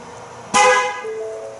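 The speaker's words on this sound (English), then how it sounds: "It's supposed to honk the horn if it's trained." A car horn gives one short, loud honk while tire pressure sensors are being trained during a wheel change, with a fainter tone lingering after it.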